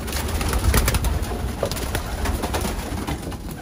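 Pigeons coo softly and repeatedly against a dense, noisy background rustle, the calls blending together nearby.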